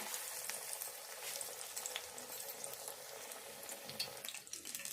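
Hot oil frying on a stovetop as food goes into the pan, a steady, bright sizzle holding at an even level for several seconds with no voices.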